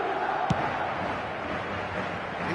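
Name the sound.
football stadium crowd on match day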